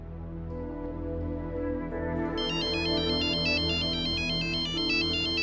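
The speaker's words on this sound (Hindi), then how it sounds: "ये पुत्तू फोन क्यों ना उठा रहा?" A steady musical tone plays, then a bright electronic ringtone with a repeating pattern starts partway through and keeps ringing.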